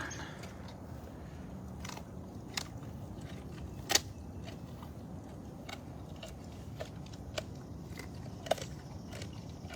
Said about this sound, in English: I can hear him crunching down.